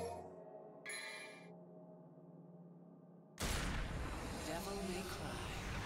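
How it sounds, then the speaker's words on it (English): A gunshot in the video game Devil May Cry 4 cracks in loudly and suddenly after a quiet stretch of game sounds, then rings out into sustained noisy reverberation. "There's the gunshot."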